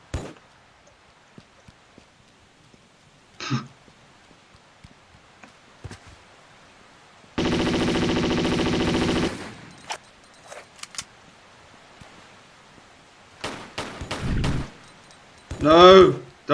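Uzi fire in the Tomb Raider custom level Kartvelishvili comes as one sustained rapid burst of about two seconds, among sparse clicks, thuds and other game effects with long quiet gaps.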